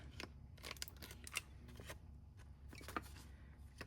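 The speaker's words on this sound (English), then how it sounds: "So this is my We Are Memory Keepers corner rounder." A We Are Memory Keepers corner rounder punches paper in a series of faint, quiet snipping crunches at an irregular pace, close by with no talking.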